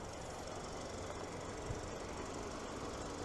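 A 2023 Hyundai Santa Fe SEL AWD with a 2.5-liter Smartstream naturally aspirated four-cylinder engine runs at a steady idle, giving a continuous, fairly loud broadband hum with no talk over it.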